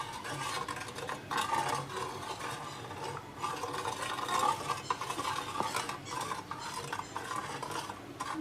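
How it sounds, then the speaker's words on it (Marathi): Half a litre of colostrum milk being stirred as a mixture is blended in, a steady close swishing and scraping of spoon against pot that runs throughout, with faint clinks and no talk. "यामध्ये मी हे मिश्रण घालून मिक्स करून घेणार आहे।"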